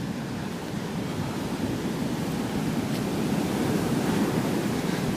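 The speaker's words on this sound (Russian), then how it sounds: "вот в октябре месяце тут волна" Surf rolls steadily onto a Phuket beach in October, a continuous broadband wash of breaking waves with no pauses, close and fairly loud throughout, with no voices.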